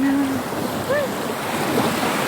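Surf at a beach rolls in as a steady, broad wash of breaking waves, close and fairly loud, with a brief faint voice-like tone passing over it.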